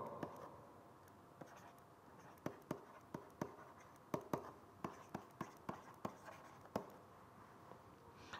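Chalk or marker writing on a board during a lecture: a quiet scratching background broken by a steady series of sharp taps and strokes, fairly close, with no talking.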